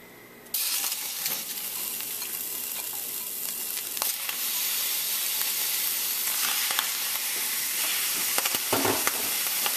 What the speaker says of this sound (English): what we're going to do now is add the raw shrimp to it